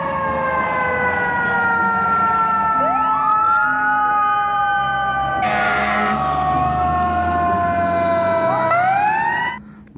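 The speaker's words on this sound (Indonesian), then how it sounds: "di sini ada mobil pemadam kebakaran" A loud fire truck siren wails close by, its pitch sweeping up and down repeatedly over rumbling traffic before cutting off at the end.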